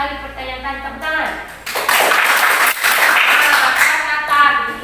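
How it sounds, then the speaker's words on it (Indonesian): A classroom of students claps hands together, a dense, steady burst of applause rising after a teacher's voice and lasting several seconds. "Tepuk tangan."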